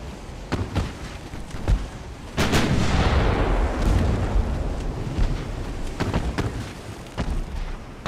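Warship guns firing in the naval game Ultimate Admiral: Dreadnoughts, a series of sharp distant booms followed by a big rolling blast that rumbles on for several seconds, with more shots scattered through it.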